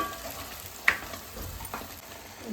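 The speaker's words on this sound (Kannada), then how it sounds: "ಆ ಮಸಾಲೆ ಹಾಕ್ತಾಯಿದ್ದೀನಿ ನೋಡಿ ಮಸಾಲೆ ಎಣ್ಣೆಗೆ ಒಂದು ಎರಡರಿಂದ ಮೂರು ನಿಮಿಷ ಚೆನ್ನಾಗಿ ಫ್ರೈ ಆಗಿ" Ground homemade masala frying in oil for fish sambar, a soft continuous sizzle with a brief stirring clack, heard close and without talk.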